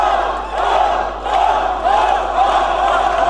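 A wrestling arena crowd chants and cheers loudly and continuously, the roar swelling in rhythmic waves with no talk over it.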